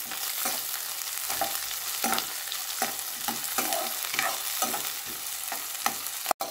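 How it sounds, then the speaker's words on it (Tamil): Small shallots fry with fennel seeds in a pan for mutton rib bone gravy, a constant hiss broken by regular scraping strokes of a spoon stirring roughly every second, close and clear. "இதில் சின்ன வெங்காயத்தை போடுறேன். இப்போ கொஞ்சம் கிண்டி விடணும்."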